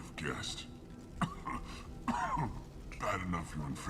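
A character in the video game Mass Effect 2 coughing and clearing his throat, several rough coughs spread over a few seconds with voice sounds between them.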